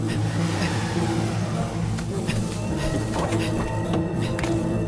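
A car drives and revs during an action chase, its engine a low, droning hum with rising and falling revs, backed by a busy wash of background noise.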